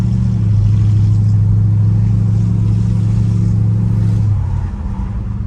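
A 1967 Chrysler New Yorker with a 440 V8 accelerates from inside the car, a loud steady low engine drone holding for several seconds before easing off near the end, with no speech.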